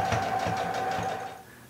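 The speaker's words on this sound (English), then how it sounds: "Sew the open edges, leaving about half an inch to an inch seam allowance" A sewing machine runs steadily, stitching the open edges of a shirt pillow sham with a fast, even whir that slows and fades near the end, close and alone.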